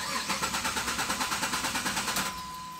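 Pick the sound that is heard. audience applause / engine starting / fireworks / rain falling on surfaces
engine starting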